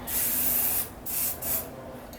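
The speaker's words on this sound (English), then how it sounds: "I like to spray it just to keep the consistency going" A spray bottle hisses fine mist onto brushed-out hair in several close bursts. A long spray is followed by two shorter puffs, each separated by a brief pause.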